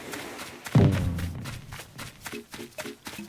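Fireworks thud in Animal Crossing: New Horizons, one deep booming hit followed by a fading rumble, then softer crackling pops and thumps spread over the next few seconds.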